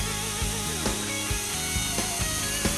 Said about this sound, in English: I highly recommend using a drill attachment to do this